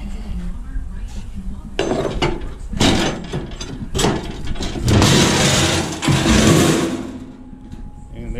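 Screws being backed out of the helm station on a 1973 Aquasport boat under rebuild, a run of close metallic scraping, clinking and rattling bursts with tool handling throughout.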